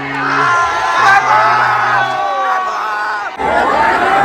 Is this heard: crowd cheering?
yes